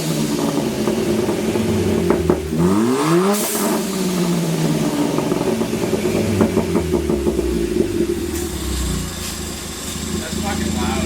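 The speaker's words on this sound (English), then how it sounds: "I guess we're gonna give her a little rev here in a minute." A Ford Fiesta fitted with a new downpipe and exhaust idles loudly, then gets a sharp rev that climbs and falls before it drops back to a rough, throaty idle. Someone talks over the engine.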